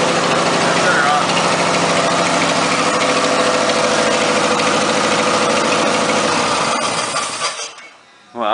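A 1976 Ford truck engine idles loudly and close by with a steady, rough mechanical drone and vibration, then is shut off near the end and sputters to a stop.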